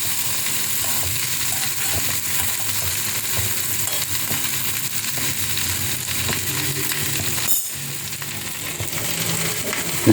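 Okra and other vegetables sautéing in a pan, a continuous close sizzle with faint stirring scrapes and a brief dip near the end, no talking over it.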